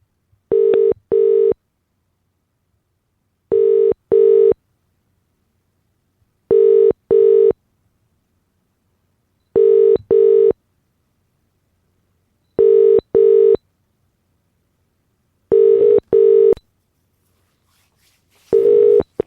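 A telephone line gives short repeated paired tones at steady intervals, loud and alone with silence between them, while a call is placed for radio telecanvassing.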